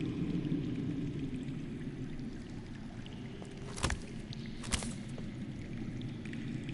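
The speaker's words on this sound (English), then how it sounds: "Listen. That's water. I hear water. From underground." Flowing water underground in a Game of Thrones video game, a faint steady trickling wash with two brief louder splashes partway through.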